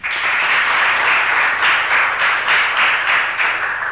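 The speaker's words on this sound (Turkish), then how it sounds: "hemen aynı alkışı, aynı hararetle, aynı sıcaklıkla bekliyorum sizden" Loud, sustained applause from a television studio audience, steady clapping filling the whole stretch without pause.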